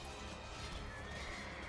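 Horses neighing and galloping in the game Age of Empires II, a whinny over dense clattering hooves amid busy battle noise, faint overall and brief.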